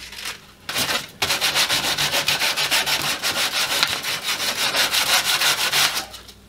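Wooden planter boards have their corners cut to 45-degree bevels with a hand saw, a rapid rhythmic rasp of back-and-forth strokes that runs steadily and close after a short pause, with no talk.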